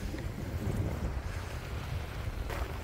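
Waves lapping around a small fishing boat on coastal water, with steady low rumbling wind across the microphone throughout and no voices.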